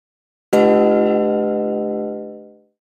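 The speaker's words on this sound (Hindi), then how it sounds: "बोलिए जय सिया राम और घंटा बजाइए।" A temple bell at Shri Ram Mandir is struck once, ringing out loud and close with a bright metallic clang that decays slowly over about two seconds, with no voices.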